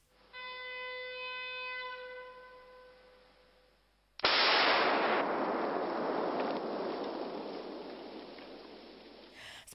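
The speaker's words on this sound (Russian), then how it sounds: "Для ликвидации возгораний специалисты авиалесоохраны применяют взрывной метод." An explosive charge used to fight forest fires goes off with a sudden sharp blast, followed by a long, loud, rumbling roar that slowly fades; a steady tone sounds before it.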